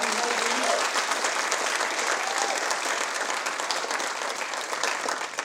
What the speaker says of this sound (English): Give it another round of applause on Stephen